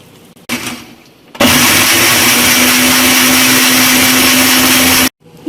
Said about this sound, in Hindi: इसमें मैं डालूंगी 1 चम्मच चीनी और 1 गिलास दूध और हमें इसको अच्छी तरह मिक्सचर में चलाना है।